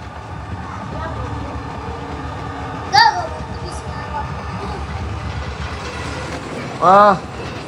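A train rolls along rails in a Resident Evil video game, giving a steady, close rumble throughout. Two short, sharp tonal squeals break through near the start and again near the end.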